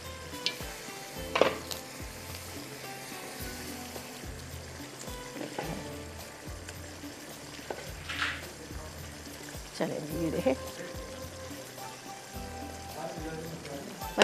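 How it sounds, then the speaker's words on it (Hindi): Onions fry in a pan for a beef khara masala, giving a low continuous sizzle broken by occasional utensil scrapes and clinks against the pan. "यहाँ पर प्याज जो है हमारे फ्राई हो रहे हैं"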